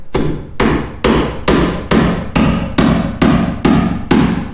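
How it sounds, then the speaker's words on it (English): Hammer blows driving a nail into barn floorboards during a flooring install, nine loud, evenly spaced strikes with sharp attacks and short decays, close and alone without talk. "So if I just hammer this in"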